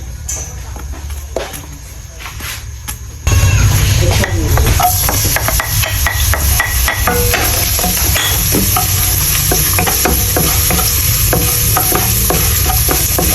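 Oil heating in a pan for menudo, faint at first, then a loud, sudden sizzle when food hits it, followed by steady frying hiss with scattered stirring clinks.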